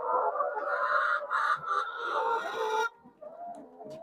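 BV380 egg-laying hens cluck and squawk loudly up close, a dense overlapping flock, then quieter scattered clucks.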